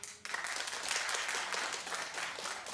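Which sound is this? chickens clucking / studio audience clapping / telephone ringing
studio audience clapping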